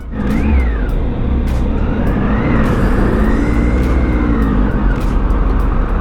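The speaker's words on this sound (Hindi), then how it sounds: "Oh boy, what a traffic, what a traffic" Dense highway traffic in India heard from a Triumph Tiger motorcycle, with engines droning, vehicles revving past and rising and falling horn-like or siren-like tones over a constant loud roar, no talk.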